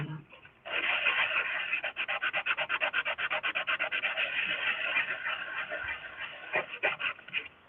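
Steady, rhythmic rasping strokes of sanding the bottom of a metal jewelry piece repeat quickly and evenly at close range, pausing briefly before resuming with a few harder scrapes.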